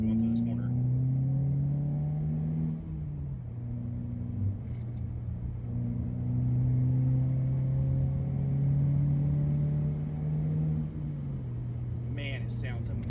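A 2022 Subaru WRX with a custom catback exhaust drones from inside the cabin, the engine note rising and falling through downshifts in a deep steady rumble, with a voice talking over it.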